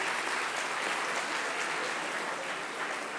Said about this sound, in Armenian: եկեք ծափարենք